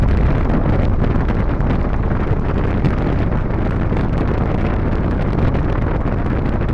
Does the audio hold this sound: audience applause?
no